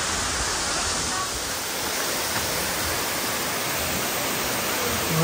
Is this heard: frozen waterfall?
yes